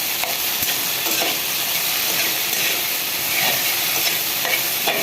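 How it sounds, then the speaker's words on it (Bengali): Lemon juice gets worked into food in a hot pan, giving a steady broad sizzle and steamy hiss with faint scraping strokes of a spoon recurring through the clip; no speech. "ভালো করে লেবুর রসটা মিশিয়ে দিলাম"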